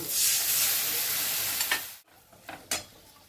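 Mustard paste goes into a pan of sizzling hilsa fish, where a loud, close hiss of frying fills two seconds before dropping away to faint sizzling and a few stirring clicks.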